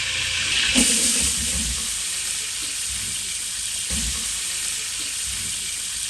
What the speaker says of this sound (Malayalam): കുറച്ച് ഏലക്ക പട്ട ഗ്രാമ്പ് കുറച്ച് സബോള ഇട്ട് കൊടുക്കാം